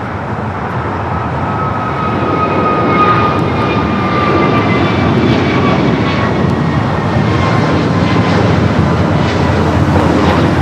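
A jet airliner takes off from runway 25 right at Los Angeles International Airport, its engines giving a loud, steady roar with a rising whine that holds throughout, mixed with broadband rumble and no speech.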